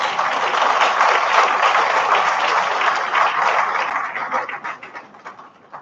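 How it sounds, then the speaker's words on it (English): An audience at an induction ceremony claps in sustained, dense applause that gradually thins into scattered claps toward the end. "So give yourselves a round of applause."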